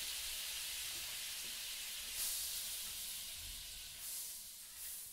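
Butter and olive oil sizzling in a hot pan, a steady, fairly faint hiss with slight swells, continuous and without speech.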